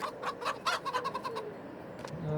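Chickens cluck in a farm yard in Farming Simulator 22, a run of short pulsed calls packed close together through the first second and a half, then thinning to a single call near the end.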